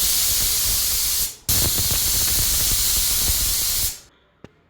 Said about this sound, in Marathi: आता कुकरच्या आपल्याला मध्यम आचेवर 3 शिट्ट्या करून घ्यायच्या आहेत।